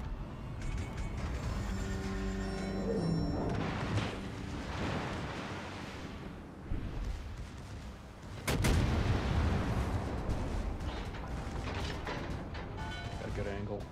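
Deep ship artillery booms from World of Warships: Legends, with a big salvo crack partway through rolling over steady engine rumble and game effects, while a voice talks over it.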